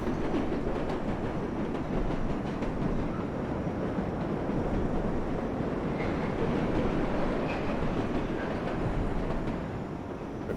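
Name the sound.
New York subway local train leaving, from video game World of Subways 4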